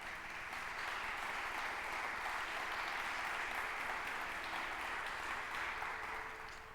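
Steady applause from a church congregation, dense and sustained for several seconds, fading slightly at the end.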